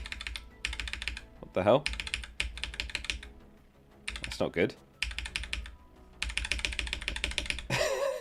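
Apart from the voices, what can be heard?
computer keyboard being typed and spammed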